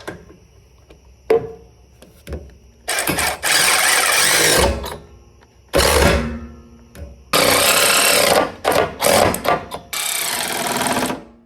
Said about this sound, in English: take out our 13mm socket and tighten up those 3 existing bolts that I used from the factory rock rails